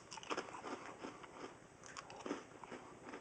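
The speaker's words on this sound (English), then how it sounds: "Let's give one a taste, see what they taste like dry like this, just as a snack." Saratoga Farms freeze-dried cinnamon apples are bitten and chewed dry, giving faint, close, brittle crunches. A couple of sharper bites stand out over soft crackling, with no talk.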